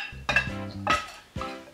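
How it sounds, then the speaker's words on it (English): A spoon mixing saltfish fritter batter in a bowl, three distinct clinks and scrapes against the bowl at an uneven rhythm, close and fairly quiet with no talk. "And we're just gonna mix it in with our saltfish."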